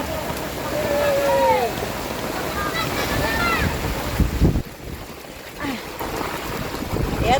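Floodwater from the swollen Marikina River after days of rain, a continuous rushing wash of moving water with wind noise, under a voice and some faint higher calls.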